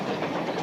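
A train on the line in a 1963 TV sitcom makes a brief, steady, fairly loud rumbling roar with a rolling, rattling texture and no voices.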